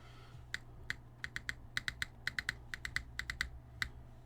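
Keys clacking on an Aeroboard70 custom mechanical keyboard, a quick irregular run of crisp close clicks with a few heavier spacebar thocks, quiet and alone over a low background hum.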